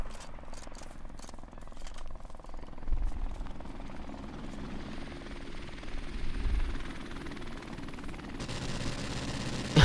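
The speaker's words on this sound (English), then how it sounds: "I got a helicopter too." Helicopter in a multiplayer shooter video game, a steady rotor thump and engine whine throughout, mixed with scattered bursts of gunfire and sharp game effects.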